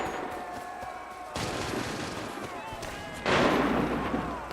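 Gunfire crackles through a video game battle, dense and continuous, with a burst that grows louder toward the end and a background voice.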